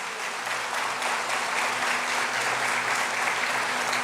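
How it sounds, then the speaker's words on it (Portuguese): A church congregation applauds in a dense, continuous wash of clapping that holds steady throughout, with a faint low hum beneath it. "Você pode aplaudir Jesus?"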